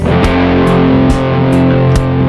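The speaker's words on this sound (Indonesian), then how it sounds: "Kita coba pakai distorsi." Distorted electric guitar from a Stinger SST10 Stratocaster-style guitar, played loud with sustained chords and a few sharp picked attacks at regular intervals, alone with no talk.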